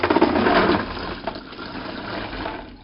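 Soaking water being poured off beans in a kitchen, a gushing stream of water that is strongest at the start and then tapers off, with no talking.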